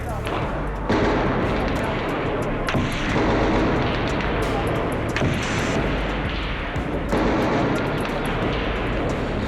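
Heavy machine gun and anti-tank gun fire thunder in repeated rolling volleys at the Akal Takht, loud and continuous, with a voice speaking over the battle noise.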